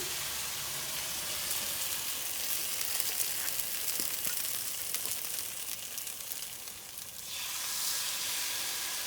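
French toast, bread dipped in egg, sizzles and fries steadily in a pan, a close, continuous hiss that dips briefly and then returns, with no talking.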